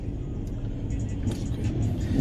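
Car on a road driving off past the listener, a steady low engine rumble that swells toward the end as it pulls away, with faint voices in the background.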